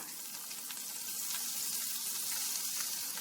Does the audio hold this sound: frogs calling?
no